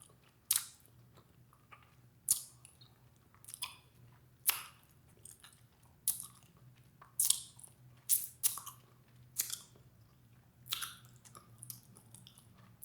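Bubble gum is chewed close up in wet, squishy bites about once a second, with soft clicks over a faint low hum and no talking.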